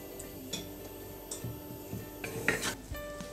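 A spoon scrapes and knocks against a pot while stirring a mushroom and leek cream sauce, giving irregular soft clinks and rubbing strokes at close range over a low simmering background.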